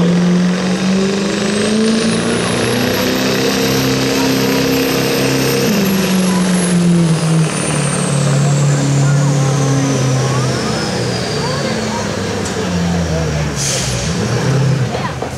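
A Chevy work stock truck, Old Southern Chevy, roars at full throttle during a truck pull at Black River Falls, the engine climbing in pitch, dropping on a shift, then straining on, loud and continuous while an announcer talks over it.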